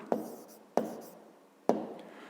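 A pen marks paper during a fifth-grade maths exercise, giving three sharp, close strokes spaced unevenly, each fading quickly into a quiet room.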